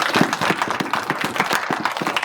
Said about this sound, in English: let's end it with a nice, loud round of applause for everybody